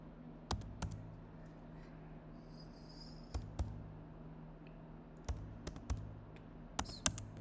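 Sparse keystrokes on a computer keyboard while entering web page code for a hotel site, arriving as single clicks and short bursts separated by pauses, close and fairly quiet over a faint steady hum.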